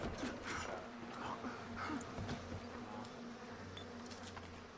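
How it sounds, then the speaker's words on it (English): A steady insect-like buzz of bees in Bioshock drones softly under faint game ambience, with a few light clicks and no clear talk. "Bees back in town."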